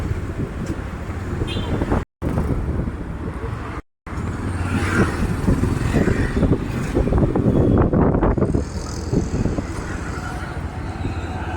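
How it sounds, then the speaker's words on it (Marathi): Steady rumble of traffic on a busy road, engines and passing vehicles close by, with wind buffeting the microphone throughout. "खूप ट्रॅफिक आहे."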